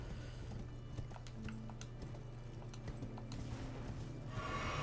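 Hooves of the spectral steed Torrent galloping in Elden Ring, a quick run of sharp clip-clop beats over a low droning background, moderately quiet and without voices.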